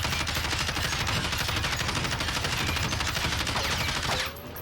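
Sustained automatic weapon fire in Warzone (Modern Warfare), a dense rapid burst of shots loud and close for about four seconds, then cutting off abruptly.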